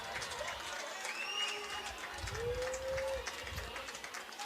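Crowd noise at a Northwestern college baseball game against Iowa: a steady stadium murmur with scattered cheers and claps, with a few whistles and bird-like chirps rising above it.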